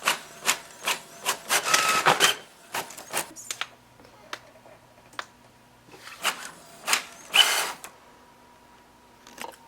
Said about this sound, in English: So I'm printing all the recipes and working on the board some more.